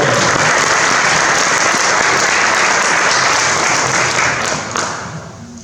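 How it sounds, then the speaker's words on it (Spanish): Loud, dense applause from a conference audience fills the room, sustained evenly before tapering off near the end, with no talking over it. "quiero que le demos otro fuerte aplauso"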